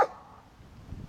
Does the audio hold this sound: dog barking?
yes